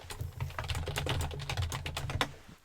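Rapid typing on a wireless computer keyboard, a dense run of close, crisp keystroke clicks at an even pace for under three seconds, with no voices.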